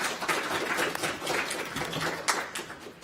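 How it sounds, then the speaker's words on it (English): Audience applause for a panel of three professors at an evening AI event, a steady patter of many hands clapping at moderate volume throughout. "Round of applause, please,"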